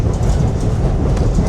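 A caboose railroad car rolls along the Lehigh Gorge Scenic Railway in Jim Thorpe, a loud, close, continuous rumble with rattling clatter from the wheels and car body.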